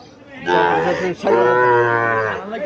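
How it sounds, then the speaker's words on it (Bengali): A Sahiwal heifer calf moos twice in long, loud, close calls with a short break between, at a weekly Sunday cattle market in Chandimura, Barura, Comilla. "সাইওয়াল জাতের বকনা বাছুর যারা ক্রয় করতে চাইতেছেন, তারা আসতে পারেন।"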